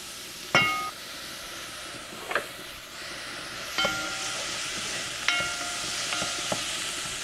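Onions softening in a pan alongside gravy for smothered pork chops, a steady soft sizzle and hiss broken by a few separate metallic clinks of a utensil against the pan.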